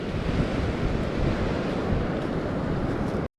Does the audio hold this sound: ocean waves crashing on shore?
yes